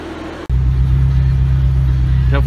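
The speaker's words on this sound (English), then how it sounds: "Definitely my first time driving a Ferrari." A Ferrari from a 1989 poster recreation starts off, its engine note jumping abruptly into a loud, steady low drone heard from inside the car, with a brief rising rev near the end.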